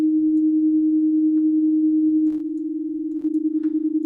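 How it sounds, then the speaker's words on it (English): A steady pure sine tone processed through FL Studio's Fruity Chorus effect hums continuously, turning wobbly and pulsing near the end, with faint clicks. "And so there's our sine wave at its regular speed."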